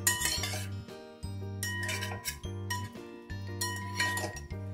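Masala fried green chillies are scooped into a bowl, light spoon and dish clinks tapping at close range over steady background music.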